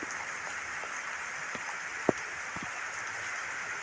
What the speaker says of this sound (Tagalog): Uy, naulan na nami.